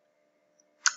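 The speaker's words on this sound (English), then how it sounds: "I will double click this bank account, double click it" A computer mouse gives a small faint tick, then a sharper, louder click a moment later, both close and alone over near-silence.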